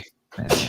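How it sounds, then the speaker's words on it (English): A single sharp human sneeze on a live sports talk show, loud and close, with a brief voice before and after it. "Have I ever sneezed on air before?"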